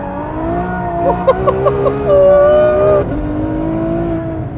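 A Ferrari F12 V12 engine revs hard while drifting, its tones rising and falling with a few sharp blips, followed by a sustained high-pitched tire squeal, loud and close.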